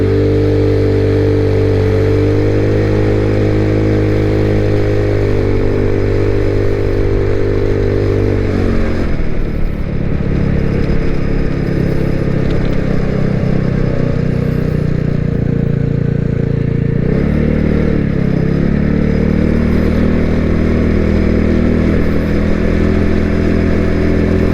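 An IceBear MadDog scooter-style motorcycle, the "Mayhem" bike, rides through rough city streets, its engine droning loud and close with rising and falling revs as it accelerates and slows, wind buffeting throughout and no talk.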